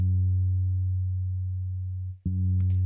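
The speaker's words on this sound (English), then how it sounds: "logic bass," Simple Logic bass synth tone sustaining a single low root note, clean and steady, dropping out briefly before sounding again alone.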